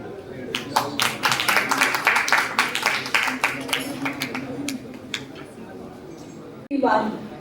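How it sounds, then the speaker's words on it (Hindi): An audience applauding at a city launch event for a women's driving programme, a burst of scattered clapping that thins out over several seconds, followed by a short loud sound at the end. "सर हम जोरदार तालियों के साथ आपका स्वागत करते हैं"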